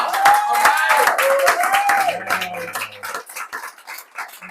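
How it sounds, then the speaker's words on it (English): Applause from a crowd at a book launch event, a loud burst of clapping mixed with cheers and voices that gradually thins out into scattered claps over a few seconds. "Let's give Tal a round of applause."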